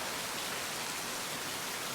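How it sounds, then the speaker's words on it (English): Heavy rain falls steadily on a rural property, a dense, continuous hiss with no breaks, close and enveloping, with no voices. "It is a rainy day."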